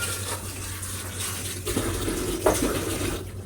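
Water runs from a tap in a kitchen, a continuous splashing flow with a couple of brief clunks of handling, close and moderately loud with no voices.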